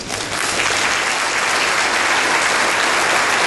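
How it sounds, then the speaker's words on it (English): A large audience at a bankers' association meeting applauds the board of directors, dense, steady clapping filling the room from start to finish. "let's give them a round of applause, would you?"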